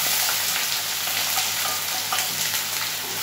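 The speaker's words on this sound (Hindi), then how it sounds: "प्याज को ब्राउन होते तब तक करना है।" Onions sizzle and fry steadily in a hot pan, a continuous close crackling hiss with occasional brief stirring clicks, no voices.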